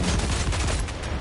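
Rapid sustained gunfire pours at a Charger, a large armored bug enemy in the shooter game Helldivers 2, in a loud, dense burst of shots close to the listener.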